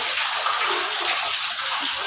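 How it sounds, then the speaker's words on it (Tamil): Water gushes steadily from a borewell tap at home, a continuous broadband splashing rush that holds even and fairly loud throughout, with no voices over it. "போரில் பார்த்தீங்களா இவ்வளோ தான் தண்ணி வருது"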